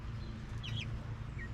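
Soft clucking from chickens over a low steady hum, with a few brief higher calls, fairly faint and close.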